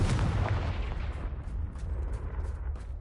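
A blasting spell explodes in the Hogwarts Legacy video game, a loud booming burst that rumbles and fades over a few seconds, with no voices.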